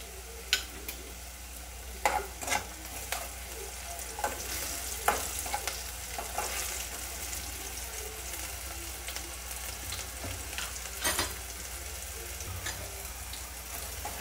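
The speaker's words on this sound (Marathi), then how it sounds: "भाजण्यासाठी थोडंसं आपण मीठ घालायचं आहे आता, म्हणजे कांदा लवकर आपला फ्राय होतो।" Chopped onion with a pinch of salt fries in a pan, giving a low steady sizzle broken by frequent scraping stir strokes and clinks of a spatula, close and moderately loud with no talking.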